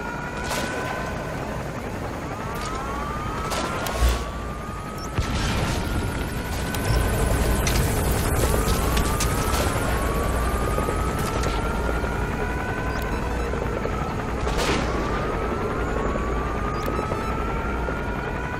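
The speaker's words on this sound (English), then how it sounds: "Where is this helicopter?" Helicopter in the video game Metal Gear Solid V, a steady rotor drone running throughout with a low rumble, and a brief thump near the start; no talk.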